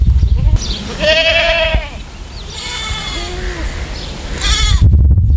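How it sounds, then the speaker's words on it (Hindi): Goats on a farm house near Karachi bleat repeatedly up close, several overlapping calls with strained, wavering cries rising over a rough rustling background. "और यहाँ पे ये बड़े बकरियां नज़र आ रही हैं"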